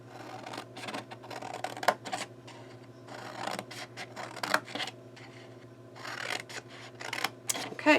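Scissors cut through paper for a roll-up treat box in a series of short, crisp snips and rustles up close, with small clicks between the cuts.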